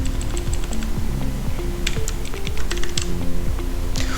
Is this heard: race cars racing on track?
no